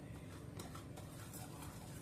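A spoon scrapes and swishes through thick dosa batter of rice flour, semolina and wheat in a bowl, a quiet, steady stirring sound with soft irregular strokes.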